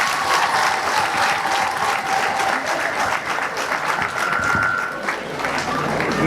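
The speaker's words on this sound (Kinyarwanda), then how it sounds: "twongere duhuze amashyi dushimire abamaze kugira icyo batubwira" An audience at a school's Saint Charles Lwanga feast-day celebration applauds in a dense, steady wash of clapping that holds at an even loudness from start to finish.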